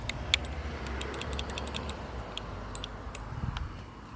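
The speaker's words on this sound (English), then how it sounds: "This button does click too." A pedestrian crosswalk push button at a Milwaukee Avenue street crossing gives a steady run of sharp, light clicks over low traffic rumble, with no talk.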